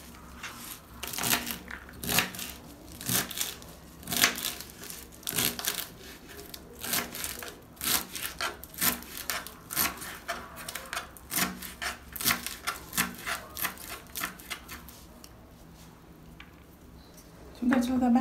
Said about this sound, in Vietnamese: Cần tây chúng ta cũng sẽ cắt nhỏ